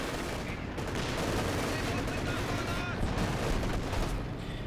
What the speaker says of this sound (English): An incendiary barrage going down there.